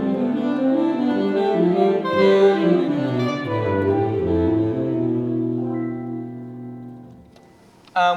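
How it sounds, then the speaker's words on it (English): Dorian scale played over the ii chord in a jazz ensemble setting, a clear melodic line of tonal notes moving in steps over sustained harmony, fading near the end with no talking. "We're going to use the Dorian scale over the 2 chord, which sounds like this."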